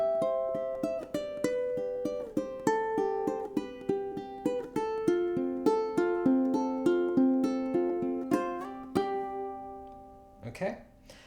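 A ukulele plays the first four bars of a fingerpicking etude. Clear plucked notes repeat in a steady rhythm through a walking pattern, close and alone, followed by a short unpitched noise at the end.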